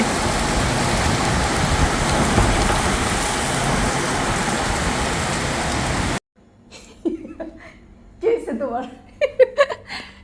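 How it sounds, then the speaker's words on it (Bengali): Heavy rain hisses steadily for several seconds, then stops abruptly; afterward a person speaks in a quiet room with faint background hum. "সুন্দর বৃষ্টি হচ্ছে"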